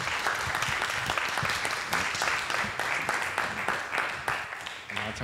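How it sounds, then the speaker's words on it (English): An audience applauds the panelists at the close of a panel discussion, sustained dense clapping with some voices mixed in, tapering slightly at the end. "Can we give our panelists a round of applause?"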